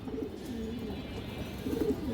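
Pigeons coo nearby in a continuous low, throaty warble that swells briefly near the end.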